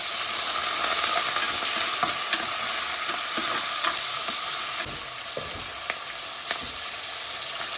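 Curry leaves, coriander and tomato frying in a pan, with a steady sizzle and repeated scraping stirs of a spoon, close and continuous.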